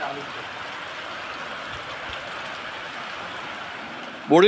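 Steady, even hiss of unseasonal rain falling continuously in Chhota Udepur district, Gujarat, India, close and fairly loud, with a brief burst of a voice right at the end.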